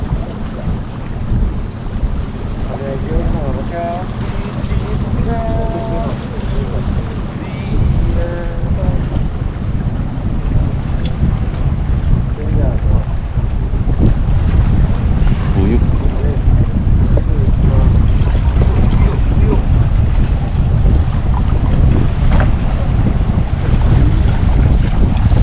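Boat crossing a calm sea from Sanur toward Nusa Penida in Bali, its steady engine rumble overlaid by strong wind buffeting the microphone throughout, with no clear talk.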